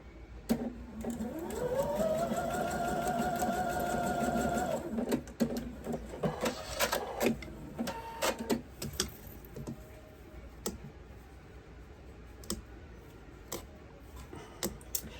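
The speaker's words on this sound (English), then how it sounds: "I'm gonna get these blocks sewn real quick" A sewing machine stitches quilt blocks. Its motor whirs up to a steady run for about five seconds, then breaks into shorter, irregular bursts with clicks and pauses. No one talks.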